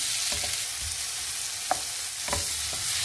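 Tomatoes and green chillies fry in a pan with a steady, close sizzle, broken by a few soft stirring knocks and one sharp clink.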